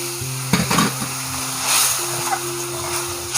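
Boal fish curry with slit green chillies and added water is stirred in a pan, a steady sizzle and bubbling with a few sharp scrapes and clinks of the spoon against the pan near the start.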